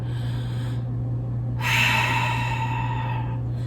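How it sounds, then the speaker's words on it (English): A single deep breath during a slow-flow yoga practice, a soft airy inhale then a louder, breathier release, close and alone over a steady low hum. "Let's take a nice full breath."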